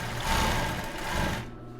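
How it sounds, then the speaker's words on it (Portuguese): A sewing machine runs a small zigzag backstitch along embroidered tulle for a bra, whirring steadily and close up for about a second and a half before stopping abruptly. "nesse mesmo ponto zigue-zague pequeno, eu vou fazer esse acabamento aqui, com retrocesso"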